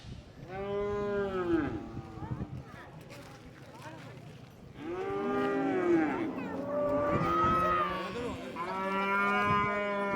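Cattle at a Pongal festival near a temple in Jaffna low repeatedly in long, loud moos, several overlapping calls close by, with people talking in the background throughout.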